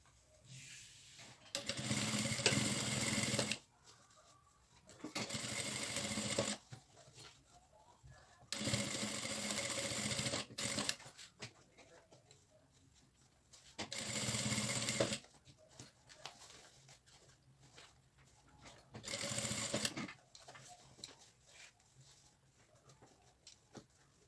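Sewing machine stitching all the way around a fabric folder with an adjustable strap, running in five separate bursts of about two seconds each with quiet gaps between, close and steady.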